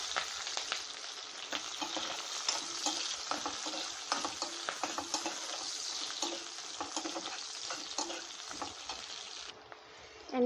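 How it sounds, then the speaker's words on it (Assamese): Onion and green chillies fry in the same oil just used for dried fish, giving a loud, close, steady sizzle full of crackles and stirring scrapes. The sizzle fades near the end, and there is no talking. "আৰু সেই একেখিনি তেলতে পিঁয়াজ আৰু জলকীয়াখিনি দি দিছোঁ।"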